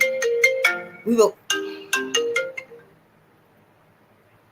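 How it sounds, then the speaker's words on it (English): A mobile phone ringtone plays a bright melodic tune of several distinct tones over roughly three seconds, fairly close and clear, then cuts to near silence; a brief spoken word overlaps the start. "My phone is ringing"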